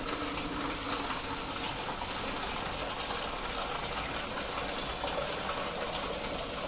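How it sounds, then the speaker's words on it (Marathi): Water pours into a pan of stuffed brinjal masala curry with a steady, continuous gushing splash at an even level, and no voices. "आता याच्यामध्ये मी टाकणार आहे थोडस पाणी"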